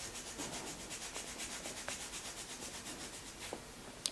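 Kinesio tape is rubbed in on the back of the ankle, higher up the leg, giving a soft, steady, rhythmic friction sound, close and quiet, with a brief louder knock at the end.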